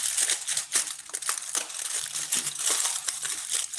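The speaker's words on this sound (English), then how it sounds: "Put the foil on them." Aluminium foil crinkles and crunches as it is pressed over potatoes in a kitchen, with close, loud irregular crackles and rustles coming in quick bursts.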